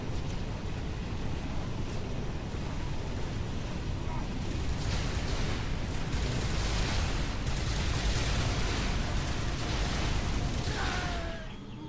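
Massive anti-air cannons in a Halo 3 mod pound away in a dense, continuous roar of rumbling blasts and crackling bursts, heavy and unbroken for the whole stretch.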